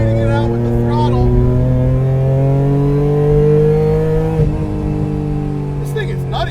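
A supercharged 700 HP Acura TL engine drones loud and close on a track, its pitch climbing steadily under throttle, then dipping briefly as the driver lifts off before pulling on again.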